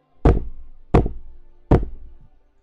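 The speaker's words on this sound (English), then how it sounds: "you knock on the door, and it's a big heavy knock as well" Three heavy, booming knocks on a door, evenly spaced about three-quarters of a second apart, each one loud and close with a short resonant decay and no voices.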